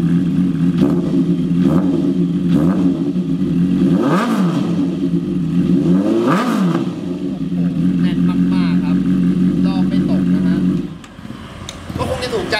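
A used 2015 Honda CB650F with about 15,052 km idles with a steady, loud engine and exhaust note. It is blipped into two rising and falling revs, then settles back to idle and drops quieter near the end.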